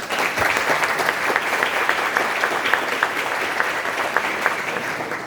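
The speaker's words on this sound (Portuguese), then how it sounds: "Vamos aplaudir juntos?" An audience at a lecture on workplace violence and harassment claps steadily for several seconds, a dense patter of many hands filling the room at a fairly loud, even level.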